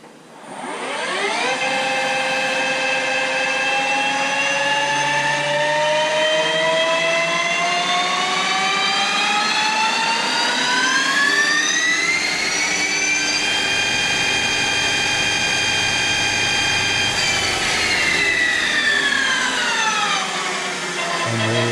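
A CNC lathe parts off a guide roller for a rowing machine saddle, giving a steady, loud whining tone that rises in pitch and holds, continuous for about twenty seconds with no talk.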